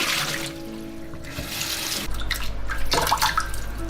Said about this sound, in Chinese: 枇杷花浸泡好了，给它清洗干净，可以多洗2遍，洗掉它的灰尘